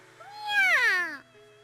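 A single drawn-out cat meow rises and falls clearly near the listener, in The Fruit of Grisaia visual novel, set against a quiet, faint background with no speech.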